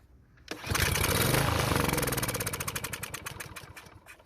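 A Craftsman walk-behind string trimmer's small engine with a carburetor problem fires up after a pull and runs loudly and roughly, its rapid popping firing pulses slowing and sputtering as it begins to falter.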